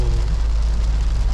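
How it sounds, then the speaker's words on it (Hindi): Steady rain falls in a dense, even hiss with a low rumble underneath, close and continuous, on a hot, humid day during a drive through hilly country. "अब बारिश आ गई मज़ेदार, अब घूमने में मज़ा आएगा।"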